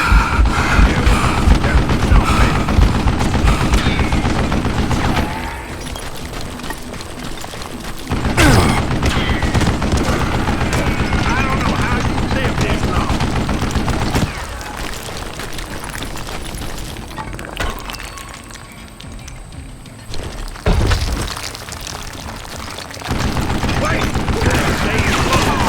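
An old man works a mounted gun in Call of Juarez Gunslinger, loud sustained bursts of heavy fire with booms and clatter, stopping for gaps before resuming, while a voice speaks at times.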